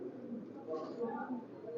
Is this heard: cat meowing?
no